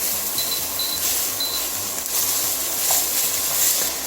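Steady, loud crackling sizzle of ragù vegetables frying in oil, continuous and close, with faint light clinks over the hiss.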